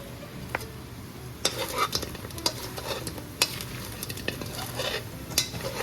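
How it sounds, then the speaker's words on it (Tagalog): Fried bananas are stirred in a pan of caramel sauce with cinnamon, a soft steady sizzle running underneath while a utensil scrapes and taps the pan in irregular clicks. "Lagay natin yung ating piniritong saging. Tapos haluin natin."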